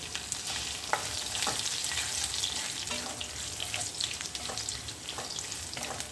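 Mini podi idlis roasting in a pan, a continuous moderate sizzle with repeated scraping stir strokes of a spatula, heard close up with no talk.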